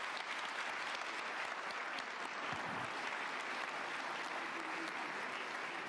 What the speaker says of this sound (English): let's give a huge round of applause to our panel.